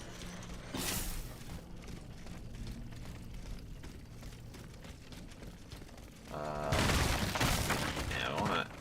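A frost grenade explodes in a video game with a short crackling burst early on, followed later by a louder, longer shattering blast over a busy background of game sounds.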